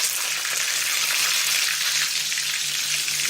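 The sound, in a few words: frozen aloo tikki potato patties frying in hot oil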